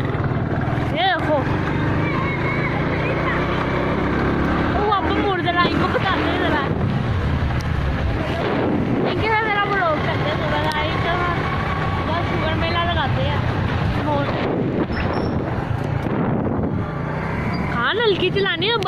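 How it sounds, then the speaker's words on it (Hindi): A motorbike ridden slowly, its engine a continuous close drone mixed with wind buffeting on the microphone, while people talk over it. "हल्की चलानी है बाइक, तेज चला के ना बंदा गिर जाता है"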